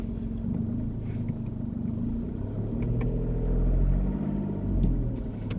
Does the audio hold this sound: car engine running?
yes